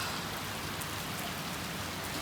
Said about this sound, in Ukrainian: Просто злива.